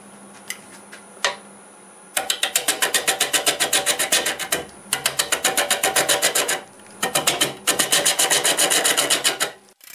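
A wood lathe turns a large sweet gum log at about 500 RPM while a bowl gouge cuts, making rhythmic rasping chatter in long bursts separated by brief pauses, loud and close.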